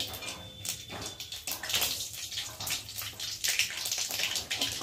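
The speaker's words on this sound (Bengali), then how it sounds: "আর দেব গোটা কালো সর্ষে দিয়ে ভালো করে একটু ভেজে নেব।" Whole black mustard seeds and dried red chillies fry in hot oil for a Bengali dish, giving a continuous, busy sizzle and crackle with dense popping all the way through.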